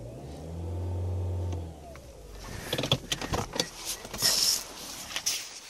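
A Toyota C-HR engine idles with a steady low hum, then cuts out and gives way to clattering, knocking mechanical noises up close.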